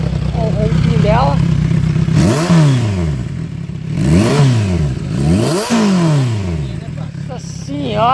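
A 2013 Kawasaki Z1000 motorcycle engine revs up and down several times in sweeping surges over a steady loud idle, close by.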